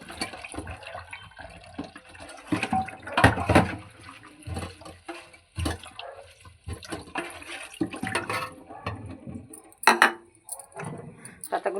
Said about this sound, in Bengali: এবারে পাতাগুলো ভালো করে ধুয়ে নিই